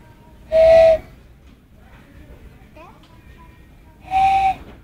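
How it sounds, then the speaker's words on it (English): Thomas the Train toy steam whistle blows twice, each a short, bright, piercing toot about a second long, separated by quiet room noise and faint child activity. "Thomas train whistle."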